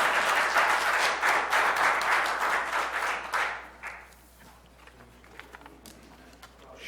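An audience at a county board of supervisors meeting applauds after a presentation, moderately loud clapping for about three and a half seconds, then fading to a quiet room murmur.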